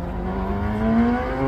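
A four-cylinder race car at a hillclimb, black and numbered 123, its engine revving with a rising whining pitch as it pulls away, heard alone and fairly near.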